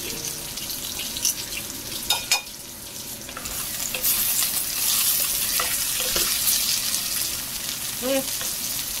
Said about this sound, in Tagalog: Ginisa ko lang sa maraming sibuyas at bawang para maging aromatic.